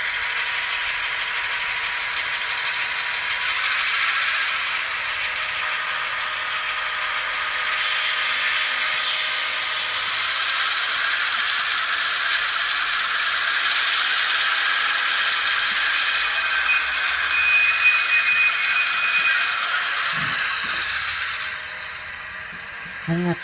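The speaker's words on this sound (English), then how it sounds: "I think that's just the sound of it shutting down. That's the throttling down, of course." An Athearn Genesis Burlington Northern GP38-2 HO model locomotive with Tsunami sound winds down its diesel throttle, a steady mid-range engine drone held at even loudness that fades out near the end, with no talking over it.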